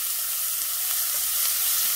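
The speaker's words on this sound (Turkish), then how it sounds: "Sıvı eklemeden patlıcan kızarttığım tencereye soğanlar koyalım. İyice soğan iyice kavuralım." Chopped onions sautéing in a pot previously used to fry eggplant, a steady close hiss and sizzle of hot oil with faint stirring, no talking.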